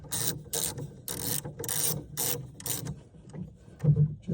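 A screw being turned part of the way in near a 3D printer hot end, a rhythmic series of close ratcheting clicks and rubbing at a steady pace.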